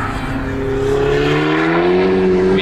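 A turbocharged car fitted with anti-lag and a blow-off valve revs hard. Its loud, close engine note climbs steadily in pitch, then a sharp hiss bursts out at the very end.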